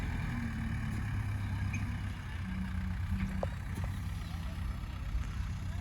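A vehicle engine at work piling harvested paddy into heaps on a farm in Karnataka, a low, continuous rumble with faint mechanical whines over it, heard from a short distance.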